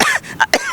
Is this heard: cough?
yes